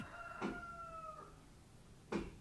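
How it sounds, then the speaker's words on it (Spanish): A rooster crows once, a drawn-out tonal call lasting nearly a second, faint against a quiet background, with a couple of short broadband knocks around it. "Y cuando ese gallo cantó"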